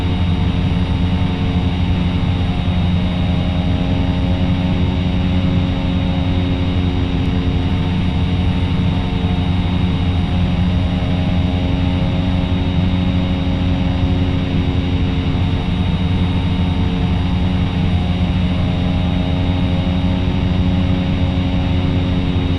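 Steady, loud drone of a Cessna Caravan turboprop engine climbing at night in the X-Plane 11 flight simulator, a constant tonal hum with layered harmonics running unbroken throughout, no voices.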